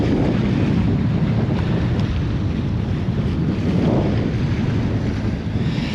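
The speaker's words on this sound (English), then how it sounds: "It's absolutely blowing a gale out here." Strong gale wind roars steadily over a boat at sea on a freezing cold morning, a constant loud buffeting rush across the microphone with churning water beneath, no voices.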